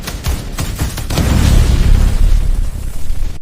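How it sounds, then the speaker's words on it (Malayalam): A grenade goes off in the Free Fire MAX battle royale game, a loud, sustained booming blast with deep rumble that fills the whole moment, preceded by a few sharp pops. "Grenade throw. ബൂം."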